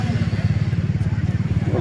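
A motorcycle idles in a traffic jam on the Pokhara–Baglung highway, its engine throbbing in a steady rapid low pulse close by, with a voice over it.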